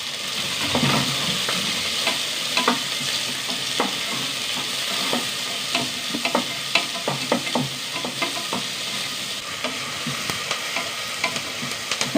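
Green chillies and onions sauté in a pan for a white chickpea curry, a steady sizzle with frequent scraping stirs and spoon knocks, close and continuous with no talking.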